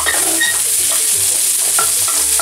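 Bell peppers fry in a hot pan with a pinch of salt for a chicken ragù pasta, a steady sizzle broken by repeated scraping stirs at an even rhythm, close and clear, with no talking.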